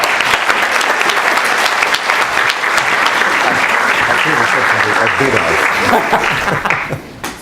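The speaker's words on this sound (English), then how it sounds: "How about a big round of applause for David Finkel?" A large audience at a storytellers' summit gives a big round of applause for author David Finkel, loud continuous clapping that holds steady before tapering off near the end.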